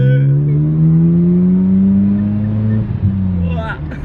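A Mazda RX7 rotary engine with a backfiring fault revs loudly and steadily up close, its pitch rising, then abruptly cuts out and sputters before trailing off near the end.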